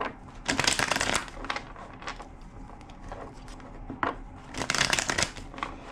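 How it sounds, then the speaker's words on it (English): A deck of tarot-style cards is shuffled by hand, with several crisp riffling bursts separated by pauses, close and fairly quiet, and no talking. "Two more shuffles."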